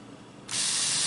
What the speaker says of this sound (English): it has a very powerful misting activity going here